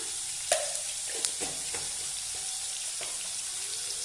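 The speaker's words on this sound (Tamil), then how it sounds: "இது கூடவே சேர்த்து நல்லா வதக்கி விட்டுக்கலாங்க" Tomatoes and dried fish sauté in a pan for a Tamil dried-fish thokku, giving a steady close sizzle with a few sharp clinks and scrapes of stirring, no voices.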